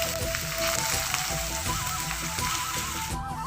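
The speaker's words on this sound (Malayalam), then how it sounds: "ഇത് നല്ല ഗോൾഡൻ ബ്രൗൺ ആവുന്നവരെ വറുത്തെടുക്കാം." Ginger frying in hot coconut oil for an Onam ginger curry, a steady close crackling sizzle with fine bubbling pops running continuously without any talk.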